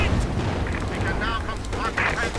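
M2 heavy machine gun fire in Company of Heroes 2, a dense, continuous clatter of battle noise with bursts and booms, and someone talks over it throughout.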